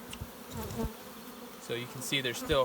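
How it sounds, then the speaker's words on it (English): Swarm of honey bees caught in spring and kept in hive boxes, a low steady buzzing drone close by while someone talks over it. "This is actually a swarm that I caught this spring"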